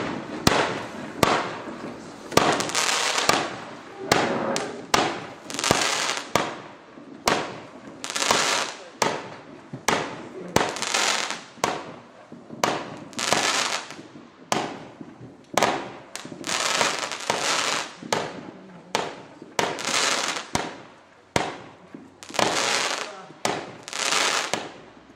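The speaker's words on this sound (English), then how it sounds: "a cake with 36 shots, and that is Happy 36 by Brothers" Happy 36 fireworks cake by Brothers, a 200 gram consumer cake, firing a rapid sequence of loud bursts that pop in a steady rhythm, with no talking over it.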